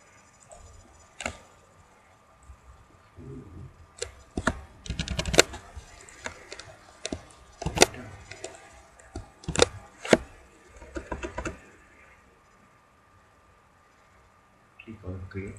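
A domain name is typed on a computer keyboard in scattered bursts of sharp, close key clicks separated by quiet pauses, with talking present.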